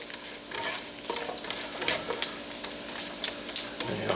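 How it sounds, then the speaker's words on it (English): Mushrooms fry in butter in a pan with a soft steady sizzle, broken now and then by scraping stirs and tosses close by. "Get a little toss around that butter. Let those guys get to cooking up pretty good."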